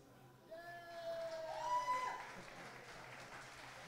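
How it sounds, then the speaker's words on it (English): Applause from an audience at a political event, a modest wash of clapping that swells and then lingers at moderate volume, faintly distant, with a few voices mixed in. "hold for applause."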